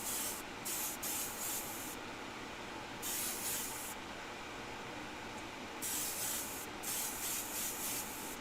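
An airbrush sprays a light dusting of Timbertech paint, a steady close hiss rising in several louder bursts.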